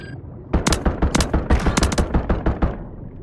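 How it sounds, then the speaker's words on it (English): Rapid bursts of automatic gunfire in Call of Duty Warzone, loud and close, with a dense run of sharp shots crowding together for a few seconds and no talk over them. "He's still shooting at me."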